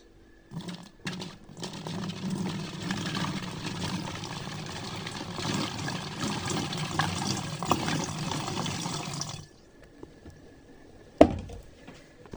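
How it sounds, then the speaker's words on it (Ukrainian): Water poured into a bottle holding salt, baking soda and rice, a steady trickling splash for about nine seconds, then a pause and a short knock near the end, with no talking. "додаємо трішки води. Багато водички не потрібно ляти."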